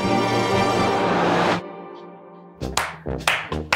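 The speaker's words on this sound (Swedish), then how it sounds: "Familjen applåderar" A family applauds at a dinner table: a few loud, uneven bursts of clapping that follow a long stretch of drawn-out sound and a short pause, arriving in ragged clusters close by.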